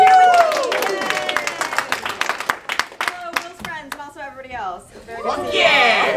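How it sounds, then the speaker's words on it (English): Live audience at an improv comedy show cheering and clapping, with rapid scattered claps and whoops close by while a performer's voice shouts over the crowd. "Woo! Woo! Cheer with me."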